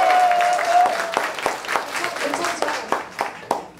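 A concert audience claps after a singer's performance, clapping starting full then breaking into scattered, separate claps as it dies down.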